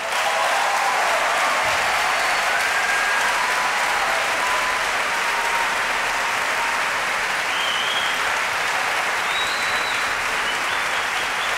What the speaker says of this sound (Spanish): un fuertísimo aplauso para Rally Barrio Nuevo